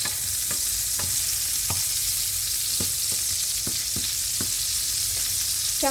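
Shrimp fry in an oiled pan, cooked for a spinach dish, giving a steady loud sizzle. A spatula clicks against the pan about a dozen times in an uneven rhythm, and no one speaks.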